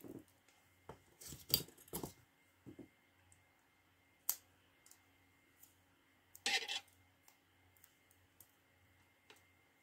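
Scissors cut paper for a handmade card in a few crisp, close snipping bursts with quiet gaps and small clicks between them; no one speaks.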